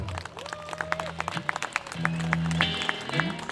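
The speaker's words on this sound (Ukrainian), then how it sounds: "привітаємо атлетів вашими оплесками" Applause from the audience at an international strongman tournament in Chortkiv, a scattered burst of clapping that builds across the clip over a steady backdrop of music.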